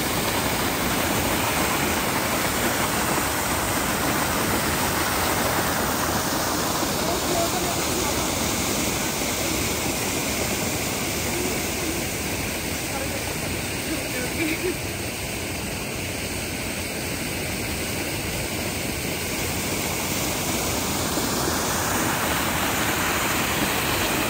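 Broad, steady rushing of a waterfall in Germany's Black Forest, a dense even roar of falling water that holds unbroken throughout, loud and close with no other sounds breaking through.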